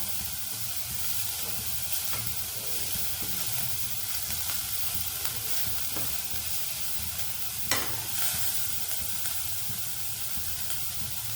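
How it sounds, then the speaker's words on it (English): Garlic frying in a pan, a steady hissing sizzle that holds all the way through, with occasional soft stirring taps and one sharper clink, no talking. "And fry till the garlic becomes golden brown."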